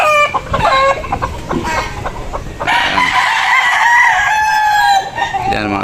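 Gamecock stags, roosters, crow and cluck up close, with repeated loud crows and short clucking bursts, and someone talking at times underneath.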